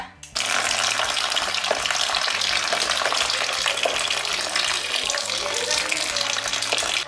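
Water poured steadily onto dry pet food mixed with grass pellets, a continuous splashing rush lasting several seconds at close range, with a low rhythmic hum beneath.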